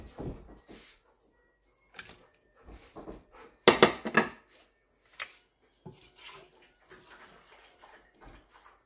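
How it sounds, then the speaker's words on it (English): Sausage pieces dropped back into a pan of creamy Tuscan zucchini noodles, giving scattered clinks and scrapes of utensil on pan with a louder clattering burst midway, close and moderately loud, no talking. "I'm going to add the sausage back."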